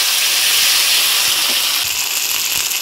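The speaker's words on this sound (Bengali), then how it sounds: "এবার মশলাটা খুব ভালোভাবে কষে নেব।" A spice paste of ground ginger, cumin and chilli frying in a pan gives off a steady, loud, hissing sizzle that continues without a break.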